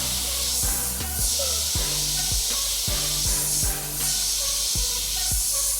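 An airbrush sprays paint in short dotting bursts to build a rust effect, a soft steady hiss that swells and fades over a background of faint regular clicks.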